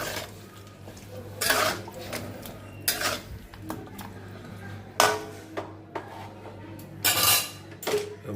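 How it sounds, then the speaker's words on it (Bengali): A spatula stirs food in a cooking pot with added water, giving repeated scraping and clinking metal strokes in short bursts. The strokes are close and moderately loud, with no talk over them. "খুন্তি দিয়ে একটু নাড়িয়ে দেবো।"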